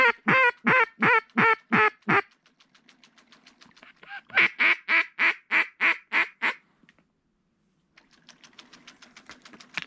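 Ducks call in thick fog during a kayak hunt, where pintail are being taken: two bursts of rapid, loud, evenly spaced nasal calls, then a brief lull and fainter, quicker calls resuming near the end, with no talking.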